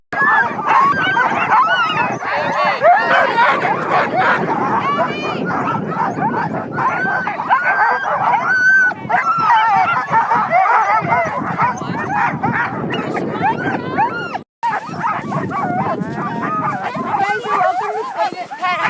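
Alaskan Husky sled dogs in a dog-sledding yard near Skagway, Alaska, barking, yipping and whimpering loudly and continuously as a crowded chorus, with people talking among them.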